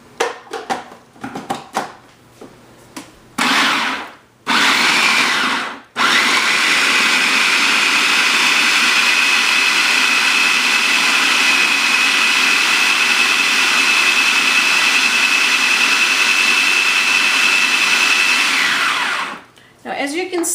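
A blender blending ginger and garlic roars loudly and steadily for about fifteen seconds after a few short pulses, its whine holding a high tone until it cuts off.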